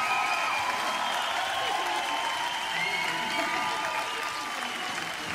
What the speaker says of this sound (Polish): Wielkie brawa, dalej, dalej, dalej